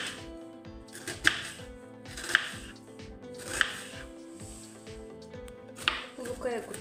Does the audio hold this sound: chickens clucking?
no